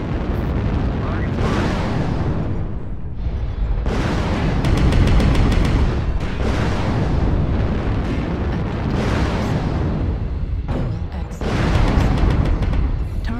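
Explosions rumble and boom in repeated heavy bursts as a target is destroyed in MechWarrior Online, with deep blasts layered over mechanical weapon noise and game voice callouts.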